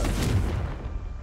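A Confringo spell blast in a video game bursts as a short, dense boom that rumbles and fades within about a second, with no speech over it.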